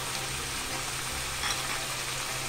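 Tomato sofrito frying in a pan as the base for a veal fricandó gives off a steady, even sizzle with no pauses, heard alone and fairly close for a couple of seconds.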